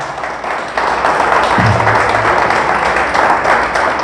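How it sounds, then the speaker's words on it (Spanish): A church congregation claps loudly and steadily during a Spanish-language sermon, a dense continuous wash of applause, with a short voice heard briefly partway through. "Dele fuerte el aplauso al Señor."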